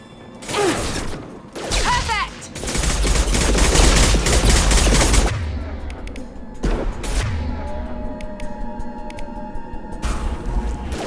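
Rapid bursts of gunfire in the sci-fi shooter Mass Effect 2, loud and dense through the middle, with sharper isolated shots and mechanical clatter around them and brief combat voices.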